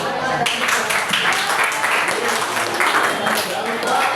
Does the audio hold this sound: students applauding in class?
yes